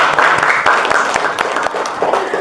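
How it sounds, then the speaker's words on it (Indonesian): A group claps together in a classroom after a discussion session, a moderately loud burst of applause with distinct close hand claps standing out over the general patter. "tepuk tangan untuk kita semua"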